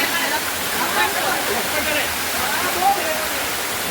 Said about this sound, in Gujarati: ત્યાં પાણી બહુ આવે જોરદાર જો ઉપર છે.